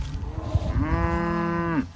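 A cow in a cow/calf mob grazing tightly packed on a sericea lespedeza pasture lets out a single loud, close moo lasting about a second, preceded by some low rustling.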